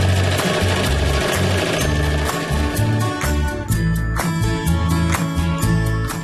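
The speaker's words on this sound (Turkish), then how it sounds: "Yine bir makine ayağından dikiyorum." A sewing machine stitches fabric, a fast, steady mechanical chatter of needle strokes, close and loud, running without pause and with no talking.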